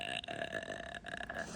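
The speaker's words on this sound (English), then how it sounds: "You don't imitate my burp" A burp from a game character in the Talking Ben mobile game, one sustained belch with a rough, rattling tone filling the short clip.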